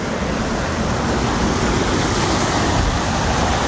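A steady, loud wash of sea waves and surf roars without a break, close by, with a broad rushing noise that may carry some wind buffeting.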